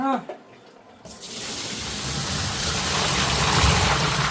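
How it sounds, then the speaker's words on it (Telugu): Several pots of water are poured into a washing machine drum, a steady loud gushing rush that starts after a brief quiet moment and continues without pause. "మూడు బిందెలు పోస్తాను"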